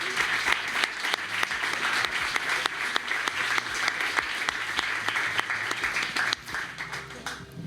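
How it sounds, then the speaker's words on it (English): An audience at a panel event applauds loudly and steadily, a dense wash of clapping that holds for several seconds and then begins to thin toward the end. "Big round of applause."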